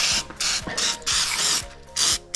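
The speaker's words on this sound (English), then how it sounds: "So I like to use this silicone spray," Silicone spray hisses onto snow blower parts on a Kubota B2301 in several short, close bursts, with faint clicks between the sprays.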